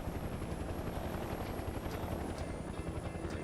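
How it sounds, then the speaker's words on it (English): Helicopter in the video game Mercenaries 2, a steady loud rotor drone filling the whole stretch, with no talk over it. "stay away from that chopper"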